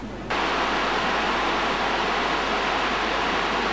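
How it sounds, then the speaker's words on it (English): Broad, steady rushing of a river in the gorge below Capilano Suspension Bridge, a dense continuous roar of flowing water that swells in after a brief quieter opening and holds evenly throughout. "as the river below danced up and down"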